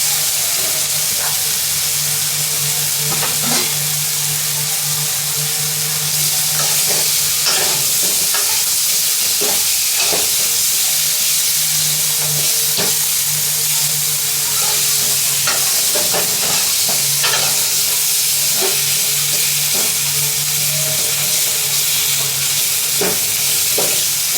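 Eggplant fries loudly in a pan for a Bangladeshi egg-and-eggplant dish, a dense close sizzle punctuated by repeated stirring clatters and scrapes.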